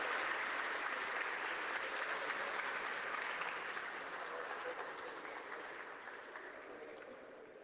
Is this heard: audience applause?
yes